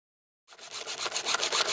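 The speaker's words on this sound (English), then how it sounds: "This initial shaping involves sawing plus dremeling." A wooden puzzle ball is shaped with a hand saw, making close, rhythmic rasping strokes that begin after a short silence and grow steadily louder.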